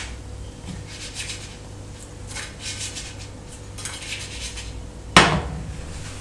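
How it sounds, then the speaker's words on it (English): Pancake flipped in a pan in a home kitchen: soft scraping and shuffling, then one sharp metallic clatter near the end as it lands back in the pan, with no talking. "Flip that pancake."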